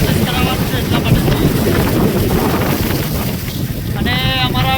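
Heavy rain and strong wind rushing past a moving motorbike, a loud roaring wash of wind buffeting the microphone, with a brief voice at the end.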